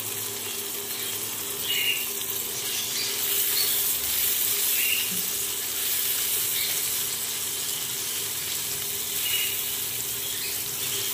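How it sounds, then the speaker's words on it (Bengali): Chopped onion sizzles in a pan while aloo chokha with tomato and salt is being made, a steady broadband hiss running throughout at an even level with a few faint crackles and no talk. "পেঁয়াজ ভাজা হয়ে গেছে"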